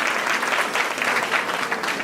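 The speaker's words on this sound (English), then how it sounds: "give her a big round of applause as she comes to give us our invitation" Applause at a safety meeting: a crowd claps steadily and evenly, a full, continuous patter at moderate volume with no voices over it.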